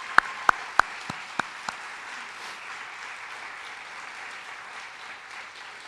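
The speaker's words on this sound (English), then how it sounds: "So let's give them a round of applause." Applause for music educators at a high school music awards ceremony: a few loud, distinct near claps at the start, then a steady moderate crowd clapping that continues evenly to the end.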